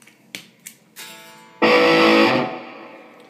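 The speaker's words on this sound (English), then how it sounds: "I'll turn the reverb back up on the pedal now." An electric guitar through a reverb pedal plays a few picked notes, then a loud strummed chord rings out and trails off with a reverberant wash.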